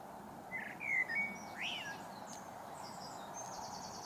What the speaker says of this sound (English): you can hear those birds chirping away up in the trees